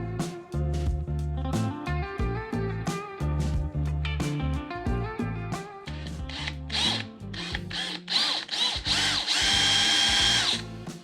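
Power drill boring a hole for a pin, loud close whirring bursts that start and stop repeatedly, rising to a sustained grinding run near the end, no talk.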